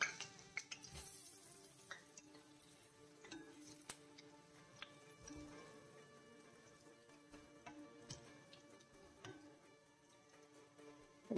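Urad dal vadas frying in hot oil give a quiet, steady bubbling with scattered small pops and ticks throughout, close and faint, with no voices over it.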